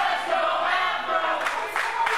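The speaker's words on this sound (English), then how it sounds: "And our crowd reeling behind Josh Starks." A wrestling event crowd roars steadily in support of Josh Starks, a dense wash of cheering and shouting voices that holds loud and continuous, with a few sharper yells rising near the end.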